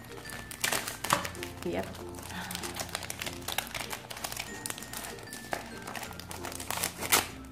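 Sticker packaging is cut open and handled at a planner desk, producing close crinkling, snipping and rustling in irregular bursts while a person talks over it.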